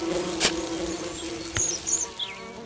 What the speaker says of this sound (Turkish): Arılar geldi. Ay şurada çok sinek var arkadaşlar.